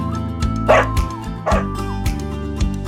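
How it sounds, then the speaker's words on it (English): A dog barks and yips in a quick series of close, loud calls, with a whimpering edge to some of them, over a steady thumping music bed. "Dog."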